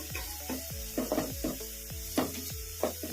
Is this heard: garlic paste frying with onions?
yes